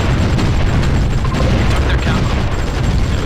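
Mass artillery fire in the strategy war game Supreme Ruler Ultimate gives a loud, dense rumble of overlapping booms and bursts that runs steadily throughout, with no talk.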